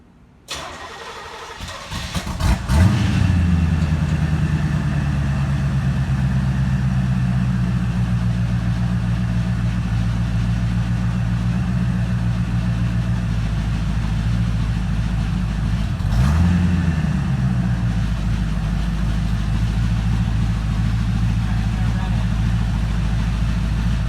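A straight-piped V8 engine in a 1985 Corvette cranks and fires up, then settles into a loud, rumbling idle close by, with one brief rev partway through.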